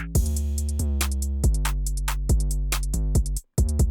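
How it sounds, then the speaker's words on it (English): Deep booming 808 bass drum hits in a steady pattern, each note sliding and sustaining, with crisp hi-hat ticks above and a brief dropout near the end. "This first 808 into the next one."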